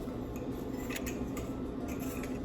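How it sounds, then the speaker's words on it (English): Food for a Halloween party is cut into slices: a steady close scraping and rubbing of a blade runs under a constant background hum, with a few faint ticks and no speech. "I'm just gonna cut these into slices"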